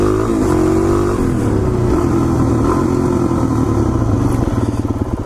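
A motorcycle engine revs up and pulls hard during riding practice, then the throttle drops for braking, with a rough, pulsing exhaust note that stays loud and close throughout, no talk.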